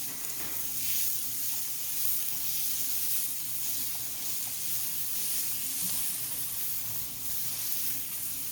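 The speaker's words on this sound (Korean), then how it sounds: "고기를 넣고 같이 좀 더 볶아주세요" Meat stir-fries with onions in a hot pan for a Japanese cream curry udon, making a loud, continuous close-up sizzle and hiss that holds steady throughout.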